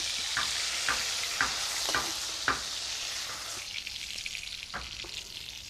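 Potato and pointed gourd fry in a pan, a steady hissing sizzle broken by sharp stirring scrapes and taps every half second or so, close and fairly quiet.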